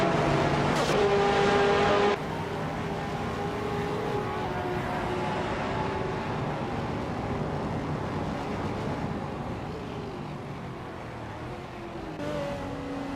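Race cars run on a track, including a 2008 Jaguar XKR GT3, with a continuous engine drone at steady loudness and a shift in tone partway through as the cars pass.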